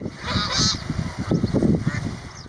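Kars geese honk repeatedly in a noisy flock on pasture, overlapping nasal calls close by with a steady outdoor background.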